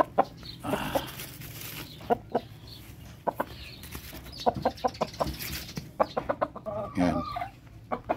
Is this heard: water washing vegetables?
no